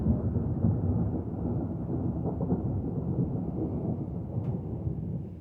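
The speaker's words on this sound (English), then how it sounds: "I really hope that my camera picked that incredible thunder up." A long, deep rumble of thunder rolls continuously, dense and steady, without any clear breaks.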